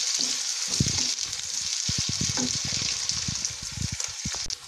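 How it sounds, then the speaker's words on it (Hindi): Finely chopped onions with a pinch of asafoetida fry in hot oil for Punjabi-style rajma masala, giving a steady bright sizzle with occasional soft stirring scrapes, close and continuous, with no talking. "और ये हमारे प्याज भुनने लगे हैं।"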